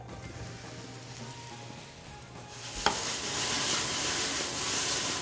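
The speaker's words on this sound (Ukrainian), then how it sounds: "Отже, починаємо смажити. И туда же заряжаем баттер." After a quiet low hum, mushrooms hit a hot pan of butter with a click and break into loud, steady sizzling and crackling close by.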